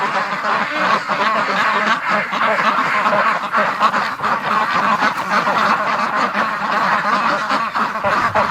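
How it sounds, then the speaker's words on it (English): Several Muscovy ducks quack in a constant raspy chorus, close and fairly loud, with overlapping calls and no pauses, as they come out of a shed in the morning. "We've got some Muscovies who are just waking up from the shed."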